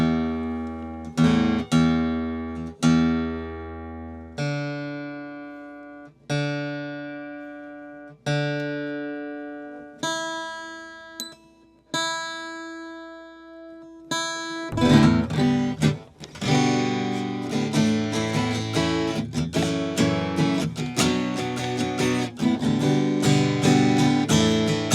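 A newly bought guitar whose tone has not yet opened up: single notes and chords are plucked and left to ring out, then steady, fuller strumming follows, close and clear with no voices.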